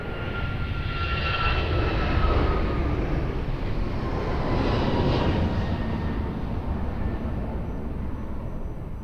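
A jet airliner takes off from runway 02 at Lisbon Airport, a loud, sustained roar with a broad rumbling low end and a thin engine whine, steady across the whole stretch, heard from a distance with no voices.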